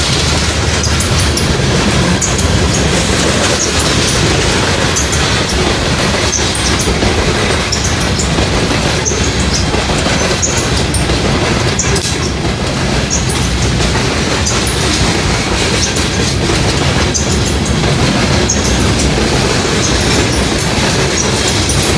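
A loaded coal train with a rear distributed power locomotive rolls past loudly at the Kenova Bridge in West Virginia, a continuous dense roar of wheels and clickety-clack with occasional squeals, sustained throughout without speech.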